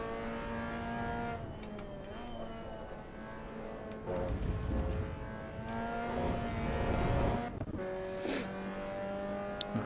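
A Mazda MX-5 ND racing at Oulton Park in the Assetto Corsa EVO sim, its engine droning and rising through the revs with shifts, tire noise and other cars nearby.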